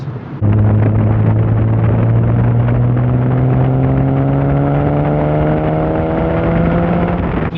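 A Porsche 930 911 Carrera engine and exhaust rev in one long, loud pull close by, the pitch climbing steadily over several seconds with no talk over it.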